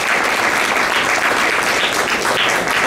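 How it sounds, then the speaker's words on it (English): Audience applause for the speakers at the close of a security panel debate: steady, dense clapping from a crowd, sustained at full volume throughout without a break. "Please give a warm applause to our speakers."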